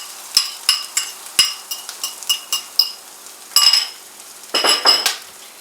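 Chorizo and eggs are scrambled in a pan with a metal utensil: sharp scrapes and clinks against the pan come close and loud at a loose steady pace, with a soft sizzle under them and a longer run of scraping near the end.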